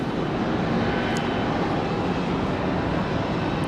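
Boeing 737 jet departing Raleigh Durham airport, a steady broadband engine roar filling the whole clip, loud and continuous with a deep rumble underneath and no voices.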